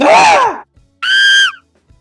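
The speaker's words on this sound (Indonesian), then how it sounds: "Begitu juga ketika kucing menyentuh tikus, kita dapat tambahkan sound misalnya jeritan, scream." In a Pictoblox cat-and-mouse game, a short scream sound effect plays as two loud bursts: a falling, groan-like cry, then a higher, piercing tone.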